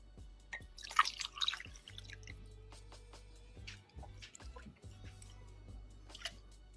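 Kool-Aid fruit punch dripping and trickling back into a hollowed pineapple, a close, quiet series of irregular wet drips and small splashes with a faint low hum underneath.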